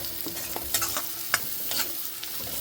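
Vegetables stir-frying in a pan for millet flakes poha, a steady sizzle broken by repeated spatula scrapes and taps, close and fairly soft, with no talking.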